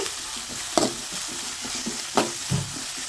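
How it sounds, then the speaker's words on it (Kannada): Spoon stirring puffed rice mixed with turmeric powder in a hot pan, with scraping strokes and a few sharper clanks over a soft sizzle, close and without talk. "ಸೊ ಇವಾಗ ಅರಿಶಿನ ಪುಡಿ ಹಾಕಿದ್ದಾಳೆ. ನಾನೇ ಮಿಕ್ಸ್ ಮಾಡ್ತೀನಿ."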